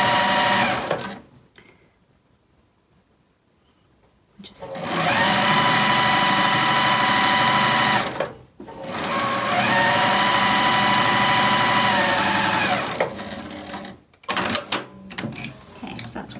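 A sewing machine stitches a border onto a Liberty print quilt, running in two long steady bursts of several seconds each with short pauses and brief starts between them.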